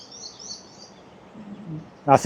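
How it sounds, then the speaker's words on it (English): Canary and blackbird calling among big trees on Tenerife, faint high chirping phrases from a distance, then a short louder burst near the end. "that's the canary and blackbird."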